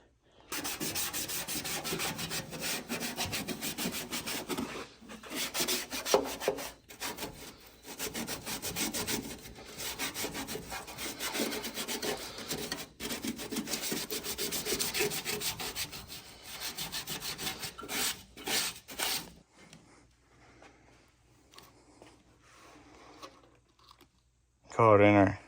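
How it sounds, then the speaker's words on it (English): Hand sanding or scuffing on Fbody car cowl surfaces to prep them for glue makes steady, close, rasping strokes for about twenty seconds. Quieter rubbing and handling noises follow. "So we're gonna scratch everything up, hit these seams"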